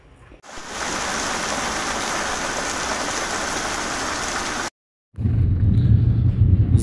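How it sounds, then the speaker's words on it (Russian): Dense, steady roar of heavy rain, cutting out briefly before returning with a deeper rumble underneath. "За окном, в общем, дождь льет, как из ведра."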